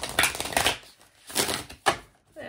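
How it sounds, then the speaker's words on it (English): Oracle cards are shuffled by hand in soft, papery bursts, several quick riffling swishes with short pauses between them, close and fairly quiet. "Oh, I need to shuffle them all."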